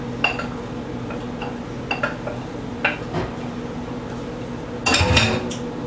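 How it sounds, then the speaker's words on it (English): Chopped celery, onions, carrots and garlic being added to a cooking pot, with scattered clinks and scrapes of a utensil against the pot and a louder clatter near the end. "I'm going to add that to my pot as well."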